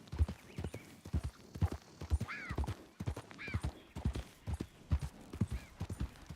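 Horse hooves clip-clop in a steady, close rhythm in the video game Red Dead Redemption 2, with a couple of brief whinnies rising over the hoofbeats.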